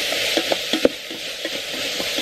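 Pepper, salt, cayenne and turmeric sautéing in an Instant Pot, with a steady sizzle and scattered scraping stir strokes, close and moderately loud, with no talking.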